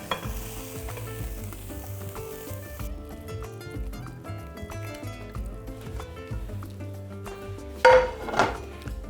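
A mushroom mixture sizzles and fries in a pan while being stirred, with repeated scraping and clinks of a utensil against the pan, and a sharper clatter near the end.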